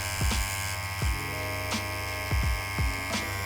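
Tattoo machine buzzing steadily while lining on real skin, a close, even electric hum with several soft thumps and brief bursts as the needle lifts and resets, no talk.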